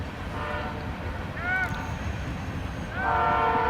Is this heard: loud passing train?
yes